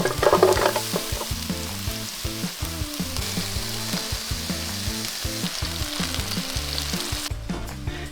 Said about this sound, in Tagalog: So yun guys, nagigisa na tayo ng sibuyas dito ngayon.